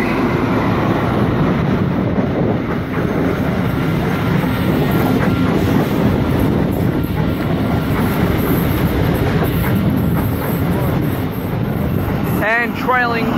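An XPT express train passes through Wondabyne station platform, a loud, steady close-up roar of rolling wheels and rail rumble that continues throughout, ending with a few squeals and clicks.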